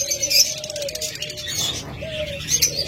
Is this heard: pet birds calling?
yes